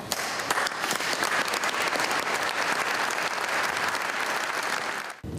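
Long, dense applause from a crowd at a memorial farewell for Alberto in Spresiano, steady and loud from start to finish, then cutting off abruptly at the end.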